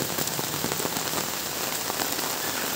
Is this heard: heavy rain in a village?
yes